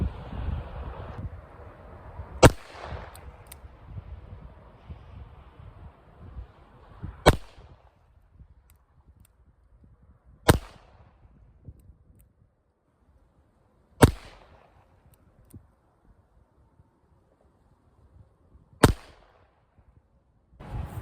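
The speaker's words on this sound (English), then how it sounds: "I'm gonna fire 10 shots" A .38 Special J-frame revolver fires wadcutter ammunition. Six sharp, loud reports ring out several seconds apart outdoors, over light wind noise.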